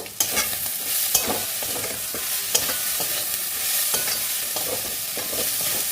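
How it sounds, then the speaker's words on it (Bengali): Chicken ghugni stirred in a pot right after turmeric goes in, a continuous close sizzle broken by repeated scraping strokes and a few sharp clinks of the spoon against the pan, with no voices. "এই দেখো একটু হলুদ দিয়ে দিলাম দিয়ে এবার নাড়বো"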